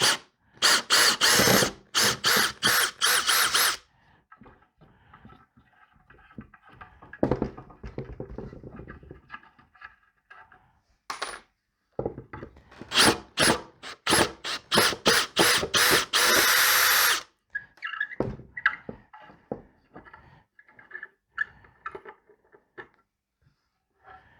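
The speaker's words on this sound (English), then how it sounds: "So now we are taking the screws away." A power drill backs screws out of a wooden chair being repaired, sounding in repeated loud bursts of whirring with short pauses, followed by quieter rubbing and handling of wood near at hand.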